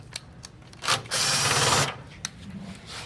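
An electric screwdriver loosening fixing screws on a Toshiba e-Studio 5520c copier: a short whirring motor burst of under a second, framed by small clicks and plastic taps, close up.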